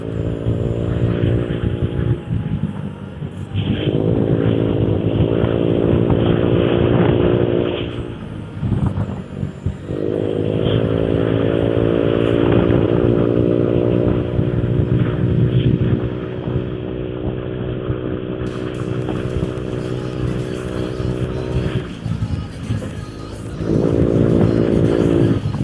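A motorcycle idles and revs through an AHM Old stock exhaust fitted with a CMS 0.5 mm filter screen, outdoors on a sunny afternoon, in four sustained throaty bursts separated by brief drops to idle, loud and close.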